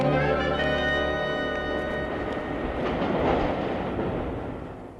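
A passenger train travels along the rails on an uncomfortable journey, a steady rumbling roll with rhythmic clatter and a sustained tonal hum fading into broadband noise, no voices.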